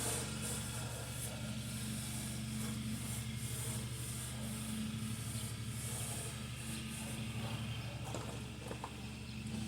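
A cloth rubs boiled linseed oil onto the painted body of a 1970 Bolens Husky 1253 garden tractor on a humid day, making a steady close rubbing hiss over constant low background hum.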